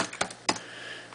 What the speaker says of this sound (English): Typing in electric SRC.